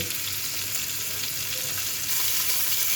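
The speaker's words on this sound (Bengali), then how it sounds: "দেখো মাছ ভাজা কিন্তু হয়ে গেছে।" Pieces of boal fish frying in hot oil in a pan give a steady, close, even sizzling hiss that runs on without a break, with no voices.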